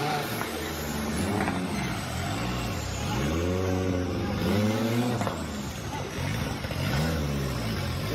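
A Super Open class off-road racing car engine revs and drones in repeated rising and falling surges, loud and continuous, with an announcer talking over it.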